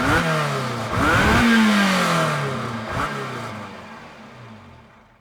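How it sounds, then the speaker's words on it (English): A Ferrari's 270-horsepower V8 engine revs sharply several times, the pitch climbing and falling with each burst before fading away. "this is a V8 engine in this Ferrari, but it actually sounds nothing like a V8"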